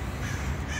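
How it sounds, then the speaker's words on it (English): Crows caw close by in an upscale shopping mall area, a short burst of harsh calls with no speech. "Pardon the crows."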